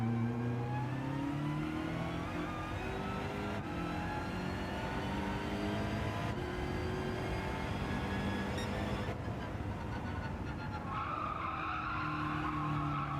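A BMW Vision Gran Turismo race car in the Gran Turismo 7 racing game revs loud and continuously, its engine tone rising through repeated gear shifts, with tire squeal and skidding throughout.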